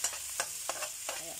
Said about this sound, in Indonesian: kayak gini kita tumis sampai matang